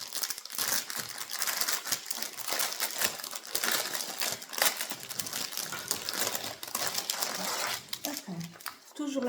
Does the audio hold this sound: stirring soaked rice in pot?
no